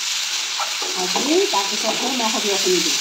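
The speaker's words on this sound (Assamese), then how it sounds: "আদা নহৰু দি এতিয়া মই অলপমান ভাজি" Ginger and garlic frying in a pan for a vegetable and dried-fish dish, a steady close sizzle running throughout while someone talks over it.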